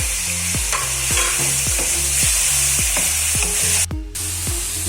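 Tomatoes tossed into a pan of frying keema with ginger-garlic paste, a steady loud sizzle broken by repeated rhythmic scraping stirs of a spoon against the pan.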